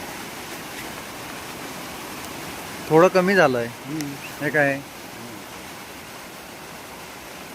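Floodwater of the swollen Jamda river hisses steadily in the background while someone speaks briefly near the middle, the rushing flow continuing evenly before and after his words.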